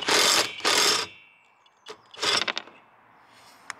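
A cross wrench turning to unbolt a nut on a trailer sailer's mast, giving a few loud metallic ratcheting scrapes in short bursts, then quieter clicks and rattles close to the microphone.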